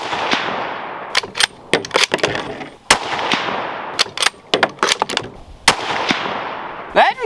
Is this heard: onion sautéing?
no